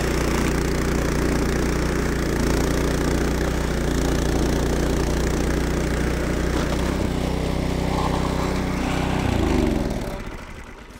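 An Evoline Standard series two-stage snowblower engine runs steadily with a loud, close, chugging drone, then its note drops and winds down near the end.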